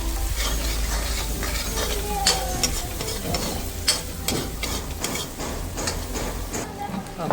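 Masala of ground cumin and garlic frying and being stirred in a pan for egg curry, a steady close sizzle with scraping and clinks of the spoon running throughout, no talk.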